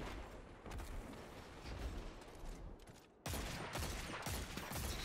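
Rapid, loud shots from the Dead Man's Tale exotic scout rifle in Destiny 2 crack out in a dense volley, then resume harder after a short dip, with no talk over them.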